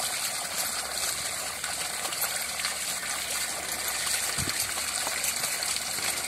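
Water gushes and splashes steadily while clothes are washed by hand for a festival, a continuous close, moderately loud wash of liquid with one brief low thump.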